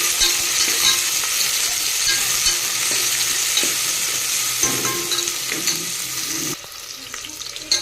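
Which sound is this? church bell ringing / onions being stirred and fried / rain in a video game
onions being stirred and fried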